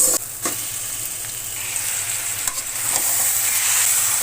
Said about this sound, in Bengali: এখন এই মাংসটা সুন্দর করে মশলার সাথে কষিয়ে নেব